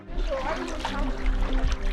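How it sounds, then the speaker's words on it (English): A creek rushes and gurgles in a steady, close flow, loud and continuous over two seconds, with a voice faintly mixed in. "What a beautiful creek."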